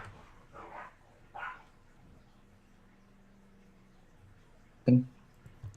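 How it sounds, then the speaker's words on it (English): Dogs fight in a background room, sending out a few short, faint barks and yips spaced over several seconds, with one sharper, louder bark near the end against an otherwise quiet indoor backdrop. "my dogs are fighting in the background"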